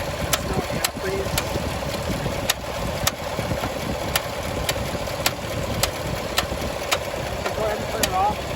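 A 2017 Chevrolet Silverado with the 6.2 V8 idles steadily after AFM lifter replacement, a constant engine drone carrying sharp, regularly spaced ticks roughly every half second, close and fairly loud.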